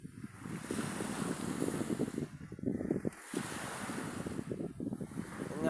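Sea waves slap and surge against a boat in rolling bursts, heavy wind buffeting the microphone between swells, loud and close with no voices.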